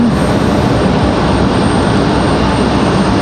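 FedEx Boeing 767 jet arriving from Memphis, a loud, continuous broadband engine roar with no breaks, close and filling the whole clip.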